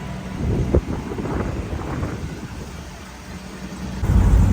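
A 1965 Ford Mustang convertible cruising on the road, its engine a low steady rumble heavily mixed with wind buffeting the microphone, with a louder gust near the end.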